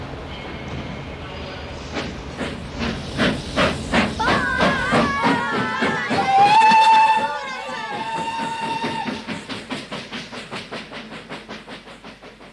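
A steam train pulls away in a radio drama, heavy rhythmic chuffs speeding up amid hissing steam, a sustained whistle in the middle, then the puffs fade steadily into the distance.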